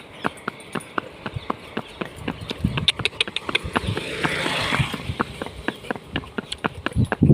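A horse's hooves clip-clop in a steady, uneven walking rhythm on a ride, close and clear, with a brief rise of wind or movement noise partway through.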